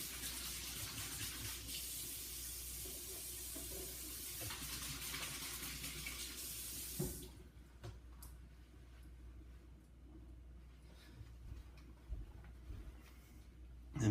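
Water runs from a kitchen sink tap as greasy hands are washed during a Kenmore gas stove repair, a steady broadband gush for about seven seconds that cuts off, leaving quieter dripping and small handling clatter.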